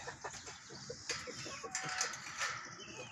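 Backyard chickens cluck in a steady scatter of short calls close by, with occasional higher squawks rising over the low murmur of the flock.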